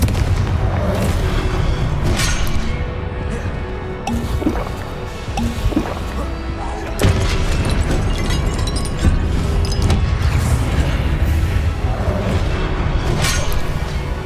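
Repeated Confringo explosive spell blasts in a Hogwarts game duel, a series of sharp booms and cracks every second or two over a dense, continuous rumble of combat noise.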